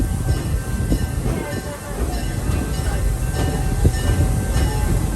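A safari tour train at Busch Gardens Tampa rumbles steadily along the rails with a continuous rolling drone and faint clacking, close by, with no voices.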